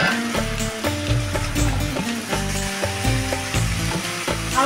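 Chickpeas and potatoes stir-fried in a kadai: a loud, close sizzle carries throughout under rhythmic scraping and knocking strokes of the spatula, with no talking; a tonal musical bed also sounds alongside.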